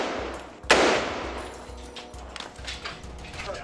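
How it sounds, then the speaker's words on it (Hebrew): A Kalashnikov rifle fires very close by during a military operation in Gaza's Al-Shati camp. One sharp, loud crack is followed by fainter, scattered shots and rumbling echoes. "ירי קלאץ' ממש קרוב"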